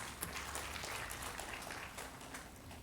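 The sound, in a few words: applause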